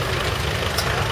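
A Fordson Major E1A tractor idles at a country festival parade with a steady, low diesel rumble, loud and close throughout a short stretch.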